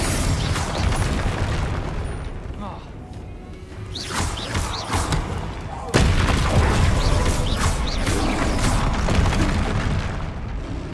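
Spell blasts in Hogwarts Legacy: booming magical explosions and crackling bursts during a fight, with a sharp loud impact near the middle and a dense roar of effects that follows.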